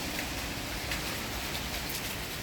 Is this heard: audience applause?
no